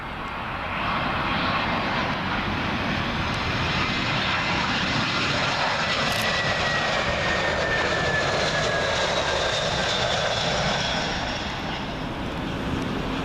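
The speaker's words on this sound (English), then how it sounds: "Next up will be British Airways A319. This one from our good friends up at Edinburgh" A British Airways Airbus A319 from Edinburgh passes overhead on final approach to Heathrow runway 27L, its engines building into a loud, steady roar with a faint whine on top, then fading gradually.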